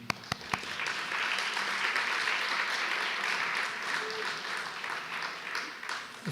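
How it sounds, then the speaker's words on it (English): An audience at an artist talk in a visiting artists and scholars series applauds steadily for several seconds, a dense, even roar of clapping from a full room that fades slightly at the end. "let's give Pamela one more healthy round of applause"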